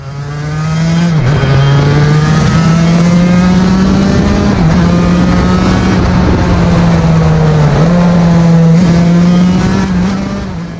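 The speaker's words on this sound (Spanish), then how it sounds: "La Vince 250 es probablemente una de las motos de dos tiempos más geniales que se fabrican" A Vins 250 two-stroke carbon fibre motorcycle engine revs hard and close, a loud buzzing drone that holds high with a few brief dips and recoveries as the throttle is blipped.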